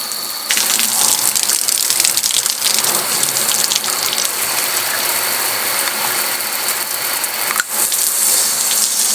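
Hot water gushes steadily from a tap, a loud continuous hiss with faint mechanical clicks and rattles mixed in.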